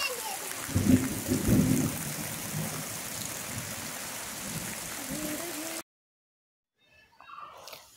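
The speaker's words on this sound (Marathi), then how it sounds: "वारं विजा पण होतात आणि पाऊस आत्ता चालू झाले बघा." Summer rain with thunder in Kerala, a steady broadband downpour hiss with low rumbling swells early on. It cuts off near the end and is followed by faint noises.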